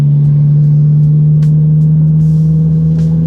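A manual Toyota Corolla Hatchback XSE speeds up on its own under cruise control in fourth gear, a steady loud engine drone humming low inside the cabin with faint road noise.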